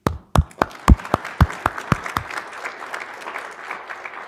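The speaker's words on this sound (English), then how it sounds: "So let me actually make sure that we clap for you two." An audience at a law event applauds the event organizers, opening with a few sharp, separate claps that quickly swell into a dense, lively round of clapping and then gradually fade.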